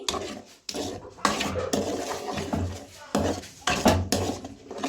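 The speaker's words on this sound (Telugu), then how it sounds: "ఆ పేస్ట్ ప్యూరీ అంతా వేసుకునేసి బాగా మిక్స్ చేసుకుందాం" A spoon scrapes and stirs tomato chili paste in a metal pan while making erra karam, giving irregular clinks and scrapes in short bursts, with a voice speaking in between.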